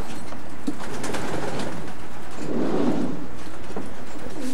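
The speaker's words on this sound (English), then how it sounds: "this section contains all the direct Louis Van Loon pigeons." Racing pigeons of direct Louis Van Loon lineage coo softly inside a stock loft, with low murmuring calls rising and falling, the strongest swell of cooing about midway, against a steady room hum.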